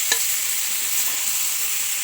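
Cumin, coriander and chili fry in hot oil with eggplant and potato for a curry, a loud, steady close sizzle with a quick stir clink at the start, no talking.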